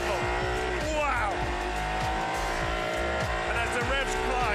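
A race car at the Goodwood Festival of Speed revs hard and repeatedly, engine pitch sweeping up and down through shifts, loud and close, with a hint of tire squeal and a voice talking underneath.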